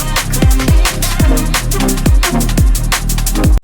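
A steady looped liquid drum and bass drum pattern with punchy low kicks and crisp bright hits in a bouncing shuffle rhythm, loud and alone.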